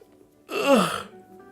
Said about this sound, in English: Followed by a yawn.